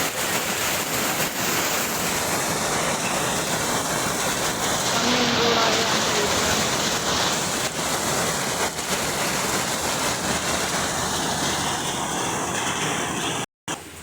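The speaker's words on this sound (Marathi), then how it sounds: "पाऊस खूपच जोर पावसाचा वेग खूप वाढला आणि जोरदार पाऊस येत आहे" Heavy rain pours down in a steady, dense wash of noise that fills the whole stretch without letup, broken only by a brief dropout near the end.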